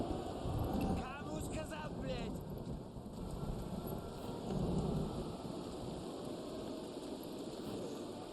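A thunder rumble in a video game about Soviet crimes against Poland, a low rolling roar mixed with steady rain and broad storm noise for the whole stretch, with faint talk-like traces early on.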